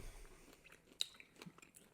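A bite into crunchy 80% dark chocolate peppermint bark, one sharp crack followed by a few quieter close-up crunches and chewing sounds, with no talking.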